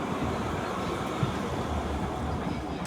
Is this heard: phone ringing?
no